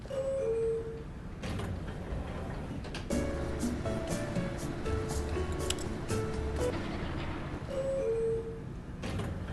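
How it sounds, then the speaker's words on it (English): A steady low rumble fills an elevator ride in The Stanley Parable, continuous throughout with faint mechanical clunks and scattered tonal blips over it, no talking. "So this elevator does nothing. It's just a rumbly adventure, apparently."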